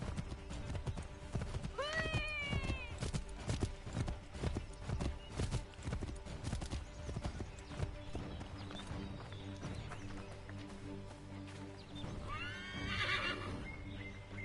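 Horses neigh twice, shrill and clear, amid a steady clip-clop of hooves and background sounds in Assassin's Creed III.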